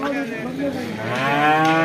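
A bull at a village cattle market gives a long, loud, drawn-out moo that rises and swells toward the end, close by.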